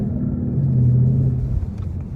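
A Mustang GT V8 rumbles low as the pedal is rolled down gently rather than floored, the deep engine note swelling briefly and then easing, close and without voices.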